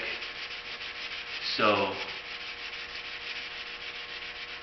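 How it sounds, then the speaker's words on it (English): Steady close rubbing of wet sanding on factory car clearcoat with 400 grit paper on a Chrysler Town and Country body line, continuous and even, briefly overlaid by a short spoken word. "even though this is wet sanding and 400 grit, factory clear is not super thick"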